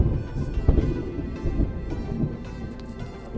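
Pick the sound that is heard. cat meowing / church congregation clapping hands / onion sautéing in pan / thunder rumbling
thunder rumbling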